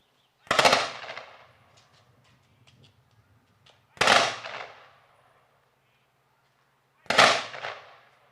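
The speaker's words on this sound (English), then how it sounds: "The rifle team is going to do the 3-volley salute also" Three sharp rifle volleys from a ceremonial rifle team at a Memorial Day service in a lakeside park, fired out over the lake, each a loud crack with a rolling echo, spaced about three seconds apart.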